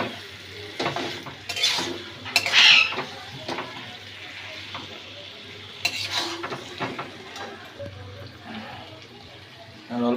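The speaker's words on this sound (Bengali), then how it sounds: "গোটা গোটা আলু ভেজে নাড়াচাড়া হচ্ছে।" Whole potatoes fry and are stirred in a pan while chicken kosha is being cooked, with a spoon scraping and clattering against the metal in uneven bursts over a low background hum.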